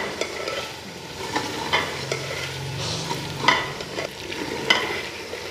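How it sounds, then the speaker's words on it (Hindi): Garlic frying with chicken meat in a pot for pulao, stirred with several distinct scraping strokes over a steady sizzle, close and moderately loud with no talk. "हमारा लहसुन भी भून चुका है इसमें।"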